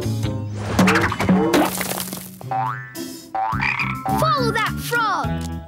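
Cartoon frog croaks from a PAW Patrol episode, several bouncy croaking calls mixed with whooshing sound effects, a crash and animated music, loud and close.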